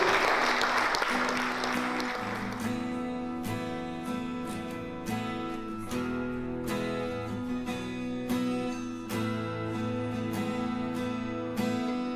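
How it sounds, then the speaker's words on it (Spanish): Sustained applause fills the opening seconds, then gives way to music with steady chords and rhythmic percussion, fairly loud throughout. "Dar un fuerte aplauso a Jesús"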